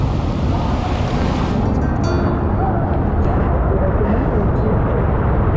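Strong water rushes through the narrow canyon of Wadi Mujib in Jordan, a loud, continuous roaring wash that fills the whole stretch without pause.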